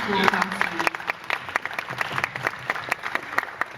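An audience at a SacAnime Assassin's Creed convention panel gives a round of brisk, scattered applause that fills the room at moderate volume while voices talk over it.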